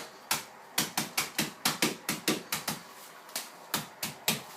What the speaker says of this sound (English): I took a cup of cashews and I put it in a plastic bag, like a little sandwich bag. And basically I'm just going to crack it up.